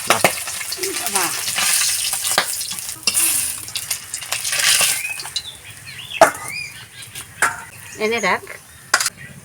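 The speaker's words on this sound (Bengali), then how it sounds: "এদিককার মাছগুলো প্রায় ভাজা হয়েছে" Loud, crackling sizzle of shing (stinging catfish) frying in hot oil, with clinks of a utensil and a few sharp pops and scrapes through the whole stretch.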